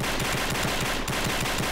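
Rapid automatic fire from an AN-94 rifle aimed through the scope in the shooter game Combat Arms. Loud, close shots come in an even stream for nearly two seconds with only a tiny break, and no talking over them.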